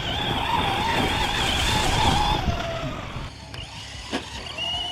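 A Traxxas RC 4x4 monster truck carrying speed through a turn, its high electric motor whine steady and close, then easing with a shifting pitch while the tires scuff and crackle over leaves and dirt.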